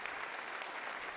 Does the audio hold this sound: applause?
yes